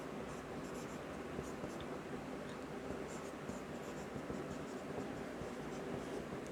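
Steady scratching of a pen or chalk writing math equations by hand in a classroom, a continuous faint texture over low background noise, no talking.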